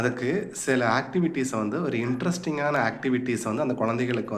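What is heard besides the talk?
None of the usual background noises is heard.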